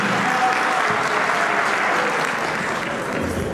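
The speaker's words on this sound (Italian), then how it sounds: "se il brindisi è preceduto da un applauso viene ancora meglio" A room of guests at a lunch following a priestly ordination breaks into sustained, even applause ahead of a toast, many hands clapping continuously at moderate distance.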